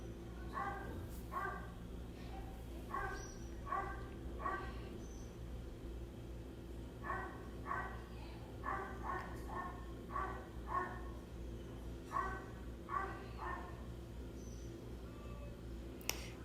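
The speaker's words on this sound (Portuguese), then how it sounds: "Acho que vocês estão ouvindo o cachorro da vizinha" A neighbor's dog barks in repeated short, faint bursts, heard from a distance through a quiet room during a facial massage session in Recife.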